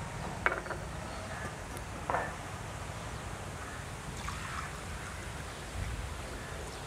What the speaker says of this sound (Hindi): अभी इसमें डालना है हमें 3 कप पानी का डालना है